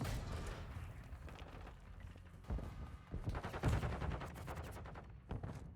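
Rapid gunfire bursts from a Call of Duty collegiate esports match rattle in quick, overlapping volleys at moderate loudness, with sharper cracks clustering toward the middle.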